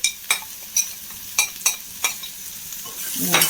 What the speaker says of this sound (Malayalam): ചേർത്ത് നന്നായിട്ട് ഇളക്കി കൊടുക്കാം